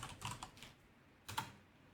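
Keys clatter on a computer keyboard as a preset name is typed in Affinity Designer, two quick clusters of soft, close keystrokes separated by a short pause in a quiet room.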